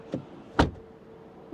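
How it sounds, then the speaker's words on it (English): Front door of a Skoda Octavia vRS facelift shutting, one solid, close thud preceded by a faint lighter click, with quiet background afterward. "Door closing sound, first the front."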